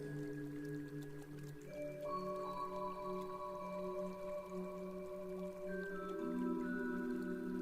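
Soft, rain-like trickling and dripping water patters faintly beneath sustained, shifting musical tones in a calm meditation soundscape. No voices are heard.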